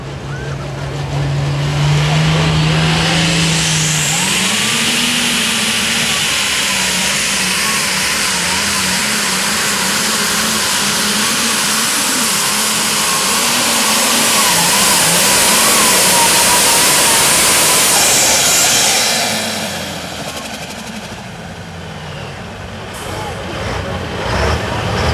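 A super/pro stock pulling tractor, the Tom Bear Machine, roars loudly and steadily through a pull at an evening event in Berryville, Virginia, the engine note shifting as it climbs, then easing off near the end.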